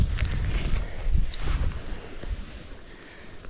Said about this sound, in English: That wind's picked up a bit.